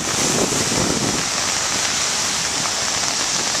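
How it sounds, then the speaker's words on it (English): Rain falls steadily in a dense, continuous wash of hiss, loud and close throughout with no break. "I love the rain."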